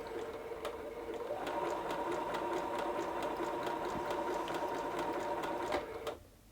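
A Bernina sewing machine with its needle bar moving runs at a steady whirring hum with a rhythmic mechanical tick, close and even, then stops near the end.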